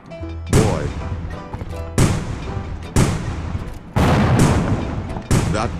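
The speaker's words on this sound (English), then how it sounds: "That mister keeps shooting me." Loud gunshots from a Wild West sandbox video game, about six sharp blasts spaced roughly a second apart, each with a booming echoing tail.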